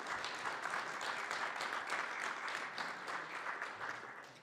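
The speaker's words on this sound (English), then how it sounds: "if you feel like applauding, now is a great time to do so" Steady audience applause at a National Press Club headliner luncheon, a dense wash of many hands clapping at moderate distance that holds evenly and fades slightly toward the end, with no talk over it.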